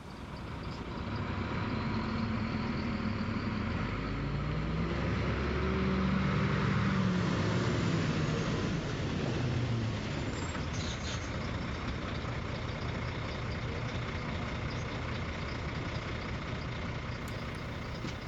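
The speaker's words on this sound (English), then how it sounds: "I was so happy to see that lorry roll up the drive" A heavy lorry rumbles slowly up a driveway with a steady, close diesel drone that swells midway and holds, a low engine growl with no voices.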